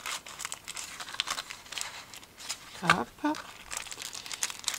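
Paper wrapper crinkling and rustling around a small Neapolitan chocolate as it is tucked into a treat box, brief close crackles, with a voice speaking over it.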